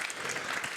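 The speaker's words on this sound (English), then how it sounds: "Round of applause, please, for that." A panel audience breaks into applause, a dense, steady wash of many hands clapping throughout the short moment.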